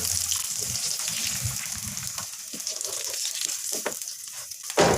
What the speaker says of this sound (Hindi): और दूसरे डाल दूँगी। तमाम कबाब में इसी तरह फ्राई करूँगी।